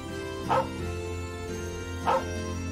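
A dog in the video game Trails of Cold Steel 2 gives two short barks about a second and a half apart, heard over steady background game music.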